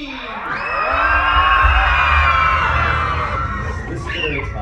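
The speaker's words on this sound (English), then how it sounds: "There's a call for the children to scream." Crowd of children screaming and cheering together at a theme park show, a loud sustained roar of many voices swelling and holding for several seconds before tapering off.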